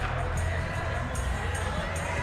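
Stadium crowd noise at the Etihad Stadium in a PES football video game, a steady, dense roar of many voices on a clear evening before a Manchester City versus Leeds United match, continuous without a break.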